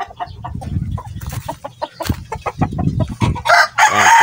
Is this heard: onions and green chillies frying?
no